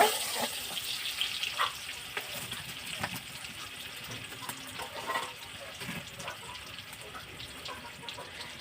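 Chopped raw onion frying in a little oil on a clay stove while being stirred, a steady close sizzle and hiss with faint scraping from the stirring throughout, no talking.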